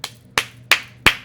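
Four slow, evenly spaced hand claps ring out close and crisp, each a sharp single smack with a short decay, about a third of a second apart.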